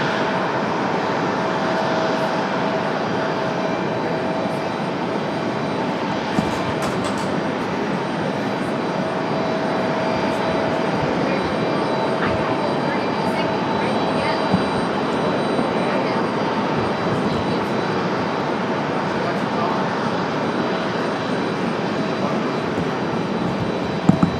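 A Delta Boeing 737 takes off at Raleigh-Durham International Airport, its engines roaring steadily and continuously at moderate distance, a broad rumbling wash with no talking, sustained throughout.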